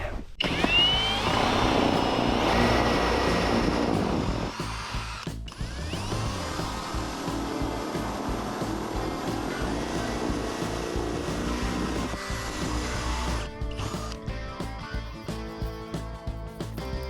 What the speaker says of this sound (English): So I need to drill a 1 3/8 inch hole in the side here. I'm just using a Forstner bit.